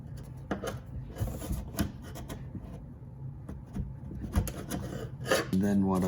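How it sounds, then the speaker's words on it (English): Dry sanding on a C3 Corvette hood by hand, with irregular close scraping and rubbing strokes under intermittent talk. "I dry sand it first, and then I'll go over it and wet sand it"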